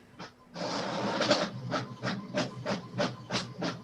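A mechanical room effect in a cold room housing a big cylinder, like an old 1980s dot matrix printer or a passing train: rhythmic rasping bursts repeat about twice a second over a steady hiss.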